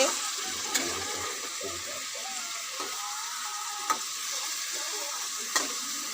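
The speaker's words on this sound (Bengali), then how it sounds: "এই দেখো আজকে নতুন মানুষ রান্না করছে এরকম মাংস রান্না হচ্ছে" Meat cooking in a pan in a home kitchen, with a soft, constant sizzle and a few faint scattered clicks and clinks from a utensil, with no talk.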